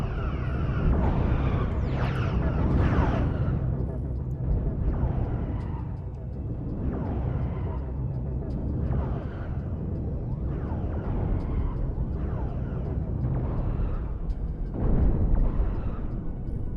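A spaceship blowing apart in the space combat game Cosmoteer, a run of heavy rumbling blasts and booming impacts repeating every second or two over a continuous low roar.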